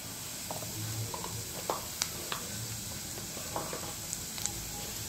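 Onions frying in a pan as turmeric is added for a dry spiced okra dish, a steady soft sizzle with occasional light stirring taps and clicks.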